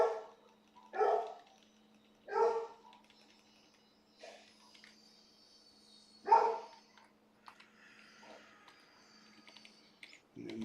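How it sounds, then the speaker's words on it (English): A pet dog barks in short, sharp bursts, about four separate barks spaced irregularly, close to the microphone in a quiet room, with faint keyboard clicks between them. "My dog is mad."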